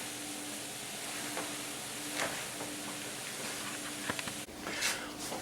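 Vegetables sizzle and fry in a hot pan while being stirred, a steady close hiss with scattered scraping clinks and a brief louder spatter near the end, no voices.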